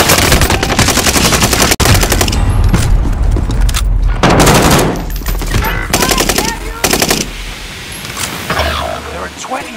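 Rapid machine gun bursts in Call of Duty Warzone Rebirth, dense repeated firing in several loud volleys with pauses between, amid game effects and voices.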